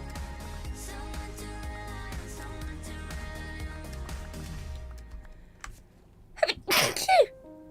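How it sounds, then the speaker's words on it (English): A single loud, close sneeze bursts out near the end, following a stretch of steady background music from a Minecraft game session. "I'll go and sneeze in a second"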